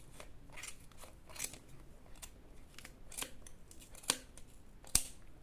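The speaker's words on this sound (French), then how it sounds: "je prends ma paire de ciseaux et on coupe dedans" Scissors snip through yarn threads while a beginner's shawl is being made, a handful of sharp, quiet cuts at irregular intervals, the last two crisper and louder, with no talking.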